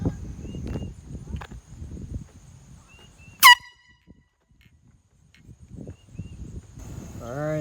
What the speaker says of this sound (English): I'm gonna record more videos of the air horn blast.